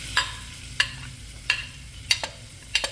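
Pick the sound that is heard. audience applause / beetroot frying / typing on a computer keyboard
beetroot frying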